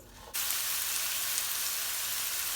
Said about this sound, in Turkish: Yarım çay bardağı zeytinyağla biberlerimi soteliyorum.